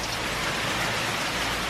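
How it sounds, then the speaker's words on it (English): Heavy Hurricane Irma rain driven by strong wind sweeps across a house roof in St. Cloud, Florida, making a dense, loud, unbroken roar of pouring water with no pauses. "you can kind of see the rain gusting across the top of the roof"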